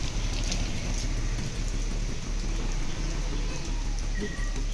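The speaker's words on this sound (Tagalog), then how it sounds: "Bakit tuwing may okasyon maulan?" Rain falling outdoors, a steady dense hiss and patter that stays loud and constant throughout with a low rumble underneath.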